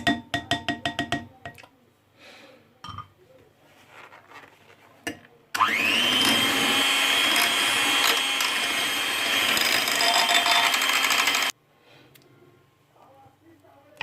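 An electric mixer whirs steadily for several seconds while blending a thick organic body base cream, loud and continuous before cutting off, with quieter clicks and handling noises around it.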